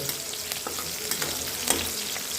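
Green chilies crackle and sizzle in hot oil for a fasting khichdi, a steady close frying hiss with scattered small pops throughout.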